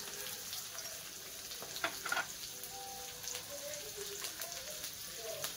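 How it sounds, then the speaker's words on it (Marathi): Onion and potato frying in oil in a pan for masala rice, a steady soft sizzle with scattered crackles and occasional stirring scrapes, fairly close and moderately quiet throughout. "एवढं आपल्याला जरा तेलामध्ये चांगलं फ्राय करून घ्यायचंय"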